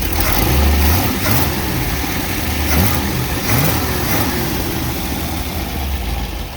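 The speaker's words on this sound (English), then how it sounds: "it's got an exhaust leak on the manifold where the distributor hooked up" A 1957 Chevrolet Bel Air engine idles loudly up close with a steady low rumble and a ticking, puffing exhaust note from a leak at the manifold, with a few slight revs.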